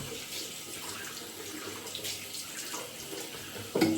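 Water runs steadily from a tap into a sink as shaving water is prepared, a soft even splashing heard close and alone, with a brief louder knock at the very end.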